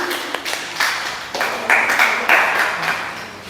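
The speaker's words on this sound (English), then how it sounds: "Let's give applause for them. Give a clap to them." An audience applauds a presenting group at a teacher-training session, with a few bursts of clapping building and overlapping over about three seconds, fairly close and moderately loud.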